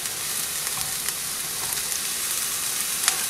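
Cauliflower rice frying with onions and garlic in a hot pan, giving a steady, even sizzle with faint scraping stirs and a small clink near the end, no talking.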